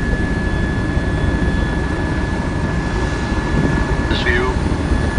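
Space Shuttle Endeavour's three liquid-fuel main engines at launch give a steady, broad, distant roar that fills the clip evenly, with a brief higher whistling sweep near the end.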